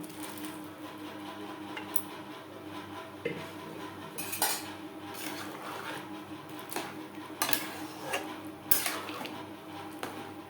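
Vegetables for a bitter-gourd dal are stirred in a pan, a spoon scraping and clinking against metal in irregular bursts over a soft background, with no talking.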